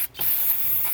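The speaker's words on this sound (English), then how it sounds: "Spray some more carb clean" Two short bursts of carburetor cleaner spray hiss close up at a Volkswagen GTI MK7 throttle body and intake, a brief squirt followed by a longer, steady spray that cuts off sharply.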